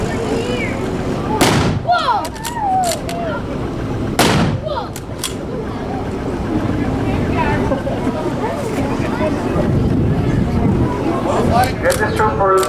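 Soldiers fire rifles at a military show in Duncannon, loud sharp cracks standing out over crowd noise and an announcer's voice, followed by scattered further shots.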